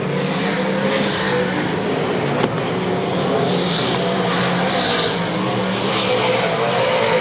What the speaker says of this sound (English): Clark in that Bicknell car getting better and better.